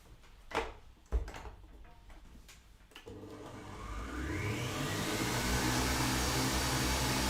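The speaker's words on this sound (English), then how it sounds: "I'm going to turn the mixer on and let it run for a little bit longer" A Kenwood stand mixer starts up after a few knocks and clatters, then runs steadily with a loud, even motor whir and beating hum that holds to the end, with no talking.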